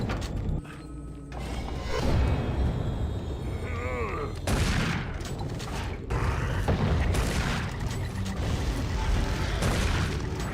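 Shotgun blasts in a video game come as loud, booming shots with mechanical clatter and whooshing effects in a busy, dense mix, with no one speaking.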